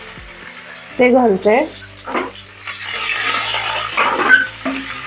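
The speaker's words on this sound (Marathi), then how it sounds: "जिरं मोहरी तडतडली, हिंग घालते।" Cumin and mustard seeds splutter in hot oil, a steady close sizzle with scattered pops as someone talks over it.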